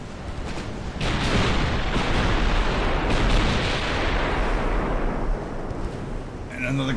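A torpedo strikes a warship in the naval game Ultimate Admiral: Dreadnoughts, producing a loud, sustained rumbling boom that swells after a second and rolls on for several seconds before easing off.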